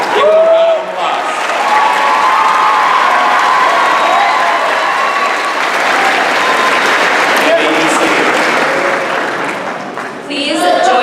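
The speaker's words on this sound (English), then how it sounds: "Give them a round of applause." A large audience at a graduation ceremony applauds steadily and loudly for several seconds, with scattered cheers mixed into the dense clapping before it fades and a voice resumes.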